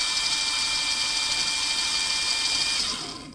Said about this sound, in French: Là, le moteur, il a continué à tourner et il s'est arrêté doucement.